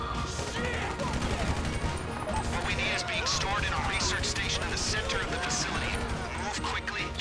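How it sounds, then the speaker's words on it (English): Dense, continuous gunfire and crashing during a GTA Online heist raid, a steady chaotic barrage of shots with people talking over it. "These guys are shooting."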